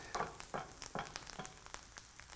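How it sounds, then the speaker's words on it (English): Parsley sizzling as it goes into a hot pan with browning food, a steady crackling fry with a few louder bursts, close and moderately loud, no voices. "you hear that sizzle"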